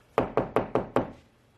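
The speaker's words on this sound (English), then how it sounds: "The old school method is knock on the wall." Five evenly spaced knuckle knocks on a wall, tapped while searching for studs behind it, each a sharp close hollow thud decaying quickly, with no talking.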